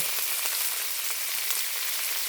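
Pork frying in a pan with chili and shallots for Thai krapao, a steady close sizzle and crackle with no talk.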